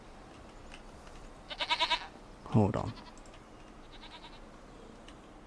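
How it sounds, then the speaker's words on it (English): Goats in the Farming Simulator 25 video game bleat in two distinct calls, a quavering higher bleat followed by a louder, deeper one, with a fainter bleat later; someone speaks briefly. "And then we've got the goats."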